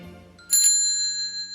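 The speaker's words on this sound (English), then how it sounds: "If you flick the handle on this bike bell once, this is what it sounds like." A spring-loaded lever bicycle bell flicked once, producing a bright double ring that starts after a quiet moment and leaves a long, steady metallic ring fading slowly, close and clear with no talking.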